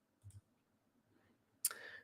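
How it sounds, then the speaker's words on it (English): A soft double click from a computer mouse pressed on a search icon, close and quiet, followed after a pause by a brighter burst of sound. "clicking on that little magnifying glass"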